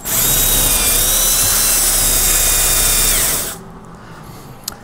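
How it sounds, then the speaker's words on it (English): Power drill with a small 1/4 inch bit boring through a 1960-66 Chevy or GMC truck roof panel, a loud close continuous whine for about three and a half seconds that then cuts off to quiet. "So I'm using a fairly small drill bit here. It's only about 1/4 inch."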